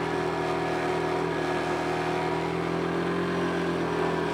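A 1983 Honda three wheeler's engine drones loudly and steadily while being ridden, a constant buzzing tone close up with no speech.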